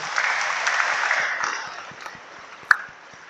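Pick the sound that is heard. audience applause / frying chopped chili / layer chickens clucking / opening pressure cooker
audience applause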